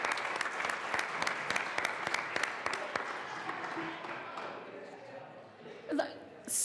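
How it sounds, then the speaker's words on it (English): Legislators in the Colorado House chamber give a round of applause, loud, dense clapping that thins and fades over several seconds, followed by scattered murmurs and brief voices in the room. "if we could give them a round of applause."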